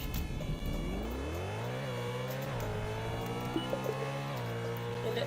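An unmarked emergency car in the Roblox game Emergency Hamburg drives along, its engine note climbing and shifting as it revs and changes pace, continuous and fairly close with no voices.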